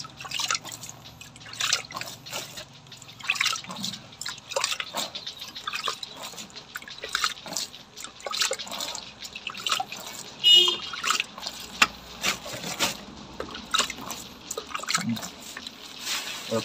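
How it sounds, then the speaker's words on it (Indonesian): Water splashes and drips onto a heap of wet leaf compost, a run of uneven trickles and small pattering drops at close range with no talk. "Nah, ini yang di dalam langsung kita siram begini"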